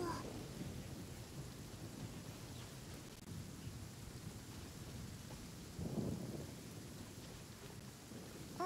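Steady rain and low rumbling thunder in Genshin Impact fill the background at a moderate level, with a brief swell of rumble partway through.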